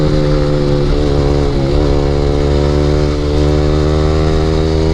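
A Yamaha R15 motorcycle with an Akrapovic exhaust roars loud and close at full throttle, its engine note steady and droning with a slight shift in pitch partway through.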